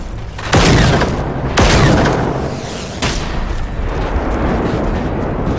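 Artillery fire from a Phoenix class robot in the video game Generation Zero: three heavy booms spaced about a second apart, each followed by a long rumbling decay over a constant noisy background.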